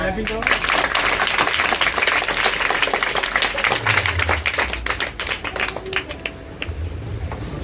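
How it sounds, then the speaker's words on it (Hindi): Audience clapping at a school prize ceremony where a student receives a watch gift for good Class 10 results; dense steady applause runs throughout, with voices talking over it. "तालियां।"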